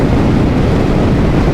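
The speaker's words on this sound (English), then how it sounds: "I am getting that wind blast above my helmet" Steady, loud wind roar buffeting a rider's helmet on a 2022 Suzuki Hayabusa cruising in sixth gear on a dual carriageway, a continuous broadband rush with no breaks and no talk.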